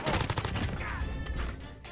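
Rapid automatic gunfire from a weapon in Apex Legends, loud, close and continuous bursts over about two seconds with a brief mechanical reload cancel and weapon swap sound mid-stream.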